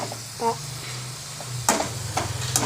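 Yam pieces frying in a pan, a low steady sizzle with a few sharp scrapes of stirring breaking through near the end.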